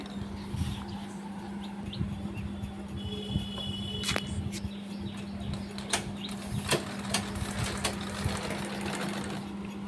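A brand-new pico sewing machine stitches steadily, its motor holding a constant hum under rapid needle clatter, with faint bird chirps in the background and no talking.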